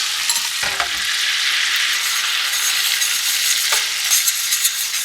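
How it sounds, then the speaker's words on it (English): Sugar being stirred constantly in a hot pan while melting into caramel for a French apple tarte Tatin, making a steady close sizzling, scraping hiss with a couple of brief louder scrapes, no voices. "I'm just going to start stirring this constantly until everything dissolves"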